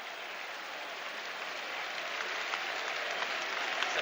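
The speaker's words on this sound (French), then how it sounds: "Les applaudissements que vous entendez sont pour Faustino Asprilla" Steady stadium applause for Faustino Asprilla during a 1996/97 Newcastle versus FC Metz football match, a continuous wash of distant clapping from a large crowd that swells slightly toward the end, with no talk over it.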